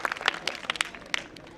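Audience clapping at an indoor valedictory function of a wellness conference, a scattered, uneven burst of hand claps from a modest crowd, loud at first and thinning out toward the end.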